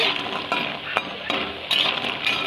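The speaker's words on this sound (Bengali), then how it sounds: "এই তো কুমড়ো বড়িটা প্রায় ভাজা হয়ে গেছে।" Pumpkin bori, lentil dumplings, near the end of frying in a pan give a close, continuous sizzle broken by a few sharp spatula scrapes and clinks against the pan.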